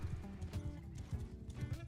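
Horses in the medieval combat game Mount & Blade gallop with busy, layered hoofbeats and a whinny amid the clatter of a battle scene, continuous and fairly loud throughout.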